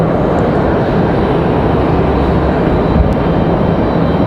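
A Republic Airways regional jet at Raleigh-Durham International, steady broadband engine rumble and hiss at a moderate distance, continuous with no talk.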